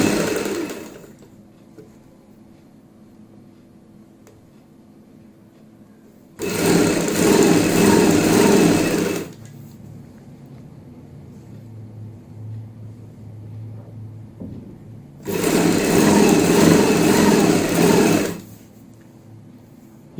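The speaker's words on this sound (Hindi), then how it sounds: "तो यहाँ पे हम फोल्ड करते जाएंगे और सिलाई लगाते जाएंगे।" Sewing machine stitching folded piping along a kurti's drawstring edge, two loud bursts of steady rapid whirring of about three seconds each, separated by quieter stretches of low background hum.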